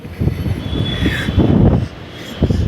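A Bangalore metro train on the rails gives a short burst of metallic rumbling with a high wheel squeal rising and fading over a few seconds, fairly close.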